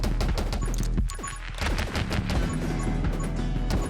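Rapid, continuous bursts of gunfire in the survival game 10 Minutes Till Dawn, loud and dense, with heavy booms layered underneath and no voices.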